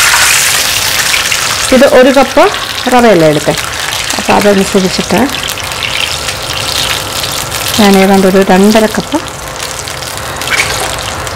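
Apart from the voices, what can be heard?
measured water being poured into pan for broken wheat upma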